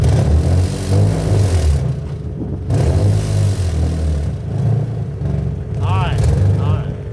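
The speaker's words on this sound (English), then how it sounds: "Yo, Alex, do a big fat burnout." A car revs hard during a burnout, its engine rising and falling in repeated loud surges with rumbling tire noise, while people shout and talk over it.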